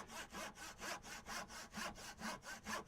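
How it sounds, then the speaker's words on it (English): A crosscut handsaw works through wood in about a dozen even, rhythmic back-and-forth strokes, each a rasping scrape, close and fairly quiet, with no talking. "Now, this is a crosscut saw, not a rip."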